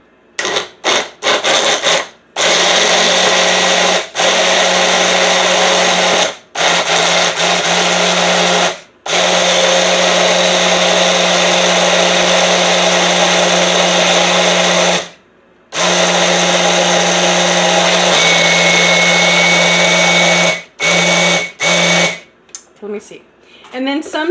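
A Mainstays personal blender pulses a very berry smoothie: loud, close grinding whirs in repeated bursts, each broken off by a brief silent pause, roughly ten pulses in all.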